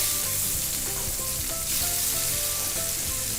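Thinly sliced chicken fillet frying in a pan for poulet à la crème, a steady close sizzle with crackling spatters throughout, no talking.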